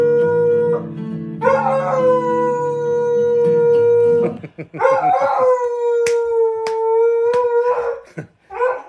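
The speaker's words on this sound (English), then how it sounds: "You're a good singing dog." A dog howls along in long, sustained, wavering tones, near and loud, with brief yips between the howls and a voice speaking at moments.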